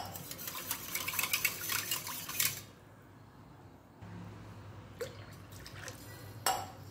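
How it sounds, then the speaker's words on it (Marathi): Water being poured into whisked homemade curd in a kitchen to make thin buttermilk, a soft trickling and splashing pour that stops briefly, then resumes with a few drips, quiet and close. "त्यामध्ये भरपूर पाणी घालायचं आहे"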